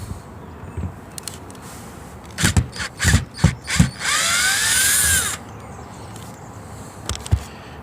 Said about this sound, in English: So take your screw gun and get all these screws removed.